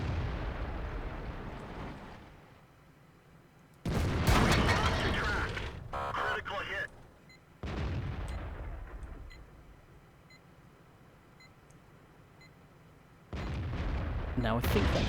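Tank gun shots boom out in World of Tanks as an Object 268 fires. Several loud, heavy blasts each trail off into a rumbling decay, with quieter gaps between them and a faint beep in the middle.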